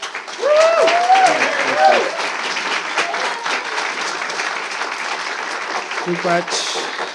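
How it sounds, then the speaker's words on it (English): Applause from the audience at a talk on Indigenous perspectives in learning, loud and sustained for several seconds, with a few voices and whoops mixed into the clapping. "And I'd like a big round of applause for Jean-Paul."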